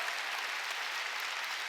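Church congregation applauding together, a dense steady patter of many hands clapping at once, sustained evenly and fairly soft throughout without voices.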